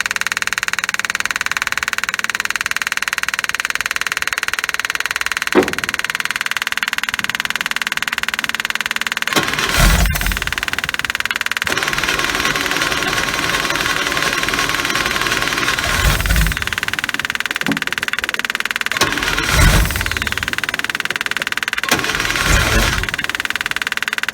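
A 1978 International Scout with a 304 V8 turns over in repeated cranking bursts between stretches of rough, uneven running, the engine close and fairly loud throughout.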